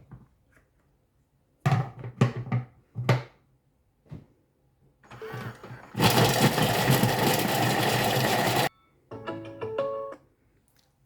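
Kitchen robot running for ten seconds at speed 5 to chop a shallot, a dense whirring burst from the appliance, preceded by clicks and handling noises and followed by brief beeps.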